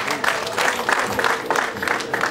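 Clapping at a Rwandan wedding ceremony, steady and moderately loud, with rhythmic bursts of hands coming from a gathered crowd.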